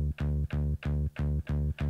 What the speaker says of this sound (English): this one is like a bass sound